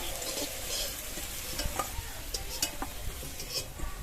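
Bitter gourd fries in mustard oil, a continuous bright sizzle with occasional stirring scrapes and clinks of a utensil in the pan, close and steady with no talking.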